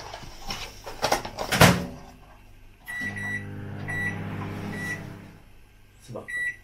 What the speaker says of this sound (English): Pop it in the microwave.